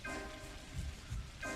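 Steady rain falls over an old field in the game Pathologic, a continuous hiss with low rumbling swells, heard alone at moderate level.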